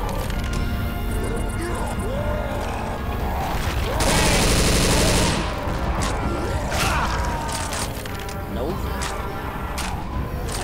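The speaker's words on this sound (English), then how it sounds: "Deploying frag rounds." Frag rounds firing in the Tank Rush video game, a continuous clatter of crackling bursts with a dense louder blast in the middle, set against steady game noise and mechanical rumble.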